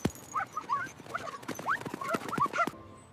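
A small lost puppy playing with a red ball gives a string of high, thin whimpers and yelps amid light clicks and knocks, close and fairly quiet.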